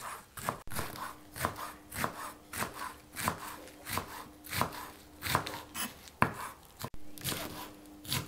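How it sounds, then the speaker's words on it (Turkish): Knife chopping chicory leaves into small pieces on a board: a steady run of about a dozen crisp, evenly spaced chops, close and moderately quiet with no talk. "Önce kara hindiba yapraklarını doğrayalım böyle küçük."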